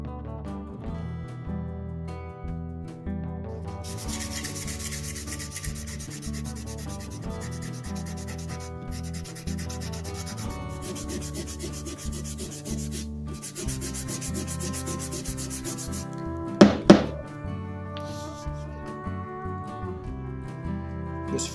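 A cracked old wooden body hammer handle being restored is sanded by hand in long, steady, rasping strokes, close and continuous, over quiet background music.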